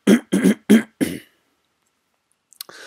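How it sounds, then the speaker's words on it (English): A person clears their throat in four quick, forceful rasps, close up, followed by silence and a faint short noise at the end. "let me just clear my throat"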